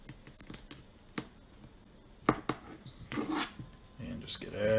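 Seeds being scraped out of a halved pepper make scattered rasping and scratching strokes, close and fairly quiet, in uneven bursts, with a voice briefly in the background.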